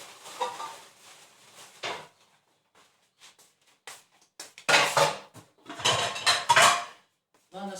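Plastic dishes handled in a home kitchen: scattered light clatters and knocks, then dense bursts of stacking and rattling near the end, close and fairly loud against quiet gaps.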